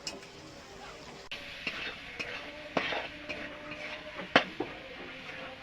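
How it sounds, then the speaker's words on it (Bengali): Ghugni sautéing in a pan as a spoon stirs and scrapes it, with a steady low sizzle and intermittent sharp clinks and scrapes of metal against the pan, heard close up. "আমি একটু কষিয়ে নেব।"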